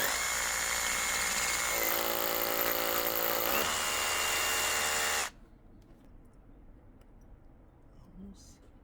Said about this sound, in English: we're going to drill the first hole here